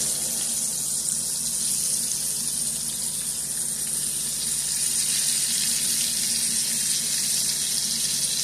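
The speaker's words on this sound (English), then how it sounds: "Wash my hands off here so I can add my onions." Tap water runs steadily into a kitchen sink as hands are rinsed mid-way through cooking beef liver and onions, a constant close hiss with no voices.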